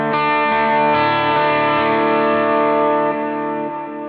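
A sustained, distorted electric guitar chord rings out with trailing delay repeats, steady and loud, slowly fading toward the end. No talking.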